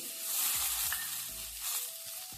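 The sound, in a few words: onions frying in tempering oil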